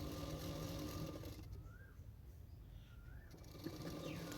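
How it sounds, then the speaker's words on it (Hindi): Domestic sewing machine stitching a folded hem around the bottom of a layered Anarkali frock, a steady continuous mechanical whir that runs through the whole stretch with no talking. "नीचे की साइड में मैंने चारों ओर इस तरह से फोल्ड करके सिलाई कर रही हूँ"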